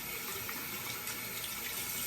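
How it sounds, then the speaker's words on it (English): Warm water runs from a bathroom tap in a steady, close, full-bodied rush with no pauses and no voices. "Get it wet with the warm water."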